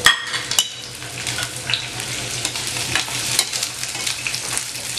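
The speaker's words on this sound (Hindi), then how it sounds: "और इसमें डाल दूंगी मैं जो मैंने प्याज काटे थे, वो लाइट ब्राउन करना है इसे हमें।" Chopped onions frying in a pan toward light brown, a constant hissing sizzle punctuated by stirring clinks and scrapes of a utensil, near and unbroken, no one talking.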